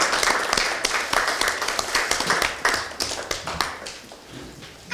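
Applause at a political party's joint meeting of its supreme council and national committee chairs, welcoming a youth committee chair, a steady, moderately loud crowd clapping with crisp individual claps that ease off toward the end.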